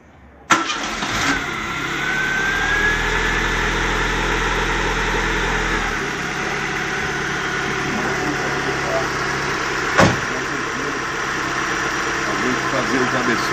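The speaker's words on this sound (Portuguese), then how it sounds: "o carro para vocês verem como é que esse carro é silencioso" A Chevrolet Ipanema Kadett engine, freshly back from a cylinder head service, starts with a sharp catch and settles into a steady, quiet idle nearby, with one brief knock partway through.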